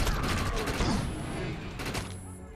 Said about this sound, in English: Here, have a grenade.